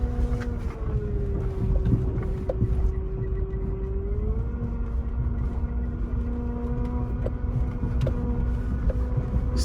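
A car crawls slowly along a rough road near Kaura District, Abuja, Nigeria, with a steady engine drone and wind buffeting the microphone throughout.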